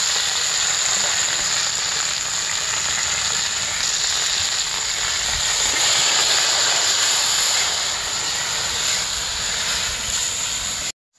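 Okra frying in hot oil with green chili and black cumin gives a steady, loud, broadband sizzle that holds unbroken for about eleven seconds before cutting off abruptly.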